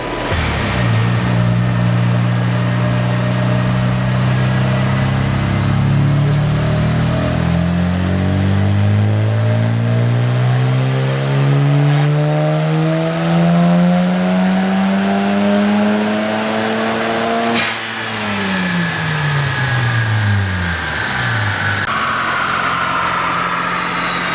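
A Mazda FD RX-7 rotary engine revs hard on a dyno pull, pitch climbing steadily through the gears for about seventeen seconds before snapping off and winding down, loud and close throughout.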